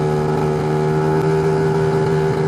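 Lambretta scooter fitted with a BGM PRO MZ30 exhaust riding on the road, a steady close two-stroke engine drone holding an even pitch through the whole short stretch.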